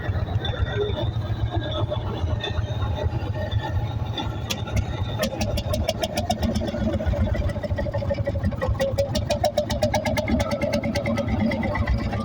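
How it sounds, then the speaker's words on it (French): An old gas-powered tractor runs steadily at an outdoor vintage tractor show in the Gers, a loud, low, continuous engine rumble with rapid ticking pulses emerging in the second half. "Tracteur qui marche à gaz."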